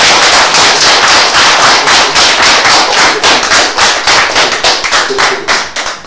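In a television talk-show studio, an audience claps loudly in rhythmic unison, with a fast, steady run of sharp synchronized beats throughout and no talking.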